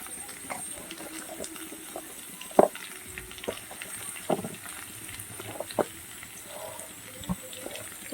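Chopped onion frying in a pan, a soft, low hiss of oil with scattered light clicks and clinks of a utensil against the pan, fairly quiet throughout.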